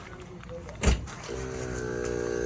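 Electric air pump for Loadlifter 7500XL suspension airbags starting up after a brief thump, then running as a steady motor whine with a faint hum, close by.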